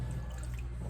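Milk poured into gluten-free hush puppy batter, a soft, steady liquid trickle heard close and quiet over a low background hum.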